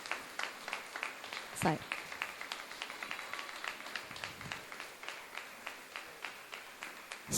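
A group claps in a steady, rhythmic beat, moderately loud, while a voice speaks over the applause.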